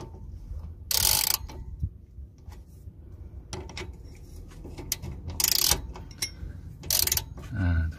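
A ratchet tightens the rear wheel hub bolts on a Citroën C1, giving bursts of rapid clicking pawl ratcheting close by, separated by quieter handling noises and short pauses.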